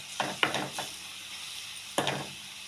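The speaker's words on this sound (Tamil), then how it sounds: "நல்லா பெரட்டி விட்டுக்கோங்க." Purple cabbage and grated coconut stir-fried in a pan, giving a few quick spatula scrapes and tosses, two close together early, then a pause before one more, with a faint sizzle underneath.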